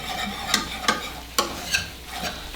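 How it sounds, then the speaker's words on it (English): A spoon scrapes through a flour roux in a hot pan for chicken pot pie, four or five distinct strokes over a soft background sizzle, close and unaccompanied by talk. "You don't want to overcook this flour right now, so you gotta stir it pretty good."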